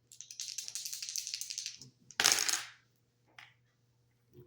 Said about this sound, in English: rolling the dice to see what I need to shuffle a deck to